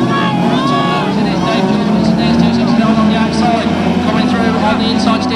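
Autograss Class 3 race cars blast past at a national meeting, a loud continuous engine roar with rising and falling revs over a babble of crowd noise.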